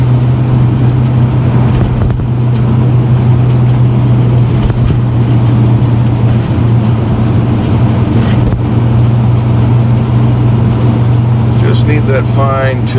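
A diesel engine running slightly rich drones loudly and steadily with a strong low hum, heard close and continuous, with someone talking intermittently over it.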